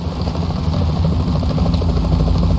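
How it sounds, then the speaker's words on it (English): A steady, loud helicopter rotor drone from the video game Metal Gear Solid 2: Sons of Liberty thrums continuously, close and unbroken, with no voices over it. "Is that a chopper I just heard?"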